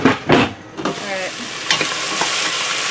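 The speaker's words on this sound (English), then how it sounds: "Stir these up a little bit." A spoon stirs pieces of Ritz-and-Parmesan-crusted almaco jack frying in a galley pan, scraping and clattering loudly at first over a steady close sizzle that carries on alone.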